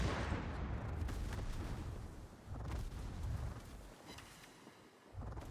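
Naval video game battle in which the cruiser Atlanta fires her guns in rapid salvos, a rumbling series of booms and blasts rising and falling over several seconds, heard at a moderate distance.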